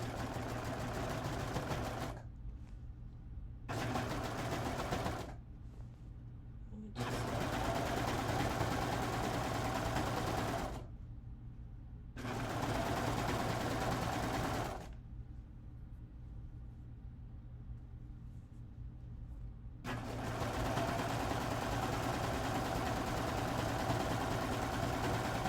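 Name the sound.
serger sewing the last seam of a dress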